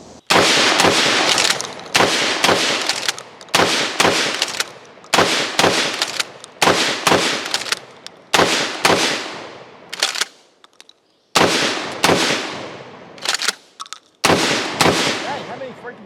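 Repeated loud shotgun blasts from a DP-12 double-barrel pump shotgun at an outdoor range, fired in quick pairs and short strings with brief pauses between, about fifteen shots with ringing decay.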